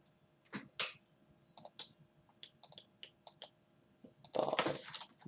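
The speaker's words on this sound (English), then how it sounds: "If I type Bob, right?" Typing on a computer keyboard, with scattered separate keystrokes and clicks close by, then a denser burst of rapid taps near the end; no talking.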